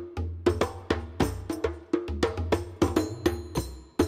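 Percussion-only game soundtrack music from a first level of Legends of Libra, with steady rhythmic drum hits and low toms repeating in a brisk, even pattern, loud and alone.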